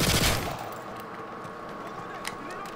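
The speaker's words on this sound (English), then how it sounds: "the G18 is the ultimate machine pistol to use at barrel stuffing range" A G18 machine pistol firing in Modern Warfare 3, a loud rapid burst at the start that fades into faint distant shots and background game noise.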